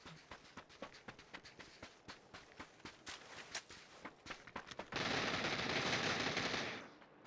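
Rapid bursts of PUBG video game gunfire crack out in quick volleys, followed by a louder sustained roar of continuous automatic fire that fades near the end.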